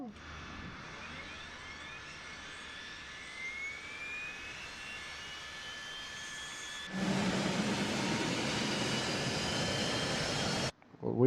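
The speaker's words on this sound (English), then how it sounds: "let's start engine number 1" A Phenom 100 business jet's number 1 engine starting while the other already idles: a steady turbine whine with rising tones, then a sudden louder broadband roar as the second engine lights up close by.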